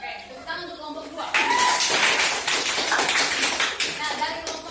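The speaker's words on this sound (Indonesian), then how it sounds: "tepuk tangan untuk kelompok 2" A classroom audience applauds a student group after its presentation, a burst of clapping from many hands that rises after a moment and carries on unevenly for several seconds.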